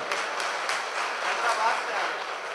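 Audience at an Urdu poetry gathering breaks into steady applause, a moderate, continuous patter of clapping hands mixed with murmuring voices.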